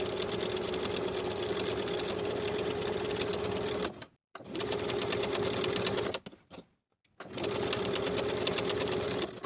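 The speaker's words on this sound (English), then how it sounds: "For both pocket backings, we're going to edge stitch along the curved finishing stitches and baste the upper edges in place." Sewing machine edge stitching a denim skirt pocket backing, loud close steady whirring in three long runs separated by brief silent pauses.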